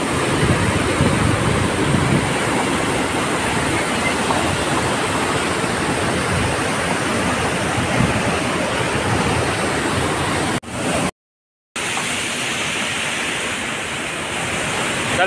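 Loud, constant rushing water from rain-swollen Kapil Dhara falls near a Shiva temple roars close by without letup, broken only by a brief cut of silence near the end.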